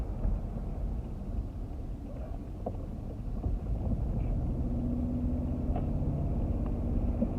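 A 1997 Cadillac hearse drives along at steady speed, with continuous low engine and road rumble and some wind buffeting from inside the cabin, with no talking.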